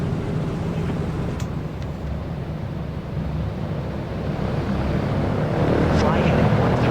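Four-engine B-17G bomber at takeoff in Flight Simulator 2024, a loud, steady, broad engine roar that swells slightly toward the end, with brief faint tones above it.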